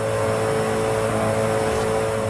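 Koenigsegg Agera RS engine in a racing video game, a steady, loud, sustained high-pitched drone held at constant revs for the whole stretch, with no voices.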